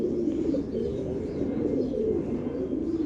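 Racing pigeons coo in a low, continuous overlapping murmur at a pigeon farm, several birds close by with no voices.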